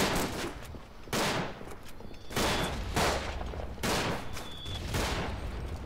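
A light machine gun fires in long, loud rattling bursts in the video game Verdun, pausing briefly between volleys over a steady battlefield din.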